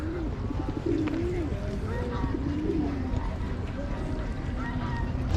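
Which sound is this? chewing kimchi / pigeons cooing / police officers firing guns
pigeons cooing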